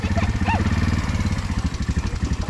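ATV engine running at an adventure park in Langkawi, Malaysia, a steady loud motor drone with a pulsing low rumble throughout, with brief voices and bird-like chirps over it.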